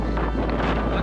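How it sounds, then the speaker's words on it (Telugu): Strong wind buffets the microphone at Amboli Ghat, a mountain pass during the monsoon, with a loud, constant low rumble and roaring gusts with no pause. "ఇప్పుడే వర్షం కొంచెం ఆగింది కానీ గాలి మాత్రం ఆగలేదు"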